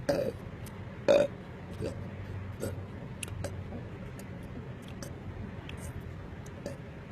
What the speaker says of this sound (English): let me see how many burps I could do in 10 seconds.